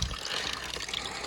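Water runs from a small pipeline where bottles can be refilled near the Triyuginarayan Temple trek in Uttarakhand. It is a brief, steady gush and splash, close and fairly loud, with no talk.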